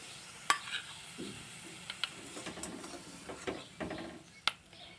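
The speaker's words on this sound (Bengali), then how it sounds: "এবার আমি মশলাটাকে তুলে নেব কড়াই থেকে" Spice paste being scooped out of a wok, scattered metal scrapes and clinks of a spoon against the pan over a faint sizzle, irregular and fairly quiet.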